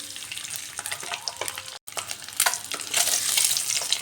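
Boiled eggs fry crisp in hot oil in a pan, giving a steady close sizzle with scraping stir sounds and a brief break before the sizzle grows louder again.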